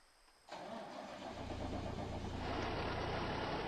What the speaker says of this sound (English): We got the Hall Scott in the big old gasoline engine and 13 speed.